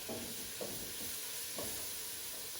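Beef cubes browning in a pot on a stove at its highest setting, a steady faint sizzle with a few soft stirring scrapes.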